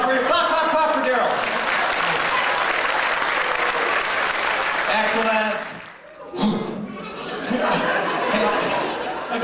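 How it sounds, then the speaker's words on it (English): An audience at a clean comedy show claps for a volunteer coming on stage, full sustained applause mixed with chuckles and laughter, briefly dipping before resuming, with voices talking over it. "Clap, clap, clap for Daryl."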